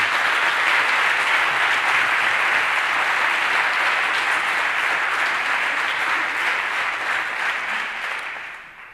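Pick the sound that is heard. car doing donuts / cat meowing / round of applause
round of applause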